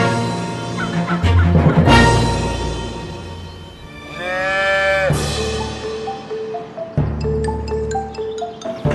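A herd of cows moos on a farm, several deep, drawn-out calls overlapping at close and middle distance, with other livestock sounds around them and no talk.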